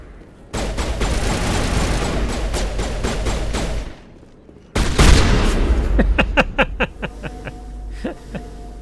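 Shotgun blasts from the video game Mass Effect 1: dense rolling gunfire for about three seconds, a brief lull, then another loud burst that fades into a run of sharp, separate shots.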